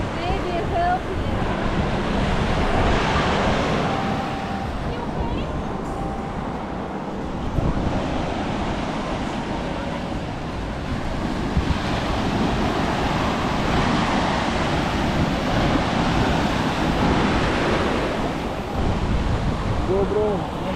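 Surf rolling onto a beach at Canggu, Bali, a steady broadband roar of breaking waves with wind buffeting the microphone, continuous and fairly loud throughout, with faint voices underneath at times.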